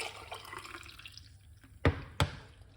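A drink poured out into a glass, heard as two sharp, close splashing bursts near the end after a quiet stretch with faint trickling.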